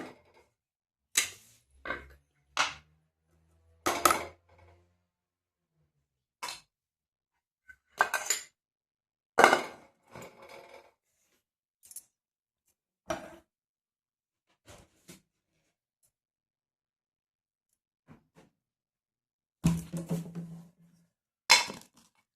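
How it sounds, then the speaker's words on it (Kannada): Roasted green chillies pounded for a North Karnataka chutney in a home kitchen, giving sharp, sporadic clinking thuds in irregular bursts with quiet gaps between them and no talking. "ಇಲ್ಲಿ ಮೆಣ್ಸಿಕಾಯಿ ಅಂತೂ ಎಲ್ಲ ಹುರಿದು ಇಲ್ಲಿ ಚಟ್ನಿ ಕುಟ್ಟಕ್ಕೆ ರೆಡಿ ಮಾಡಿ ಇಟ್ಟೀನಿ ರೀ"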